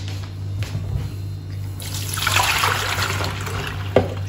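Running water from a tap splashes as items from a cupboard are washed, a close, steady rush that swells after a quieter start.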